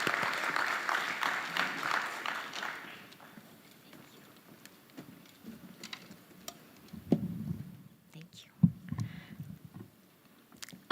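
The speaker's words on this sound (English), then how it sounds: "Let's clap for her again." Applause from an audience at the ICCE 2024 opening ceremony, a dense burst for about three seconds that quickly dies down into scattered claps, footsteps and light handling noises.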